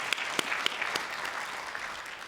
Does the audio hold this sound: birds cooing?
no